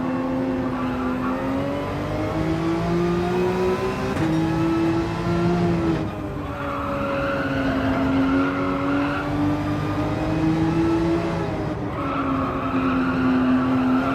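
A video game race car engine drones steadily at high revs, its pitch sliding up and down through gear shifts, with no talking.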